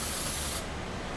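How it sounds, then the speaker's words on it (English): Aerosol spray paint hisses steadily for about half a second during a people-painting session, then cuts off, leaving quieter background noise. "This is behind the scenes to spray painting video"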